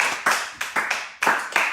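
A church congregation claps in praise of the Lord, a burst of about eight loud, quick, rhythmic hand claps close by with no talking over them.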